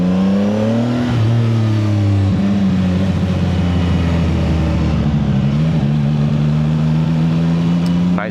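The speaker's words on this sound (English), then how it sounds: "Nice car." A car engine revs hard near a motorcycle rider in traffic by Churchill Downs, a loud steady drone whose pitch climbs, dips and climbs again through the stretch with no talk over it.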